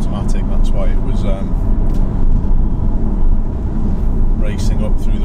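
A performance car driven in manual mode, its engine loud and close as the revs climb through the range, with a person talking over the rising mechanical roar.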